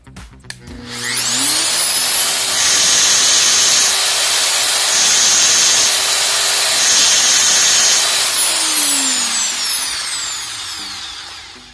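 A dry core drill with its hammer function on spins up to a loud, steady whine with rattling hammering underneath, runs for several seconds, then winds down.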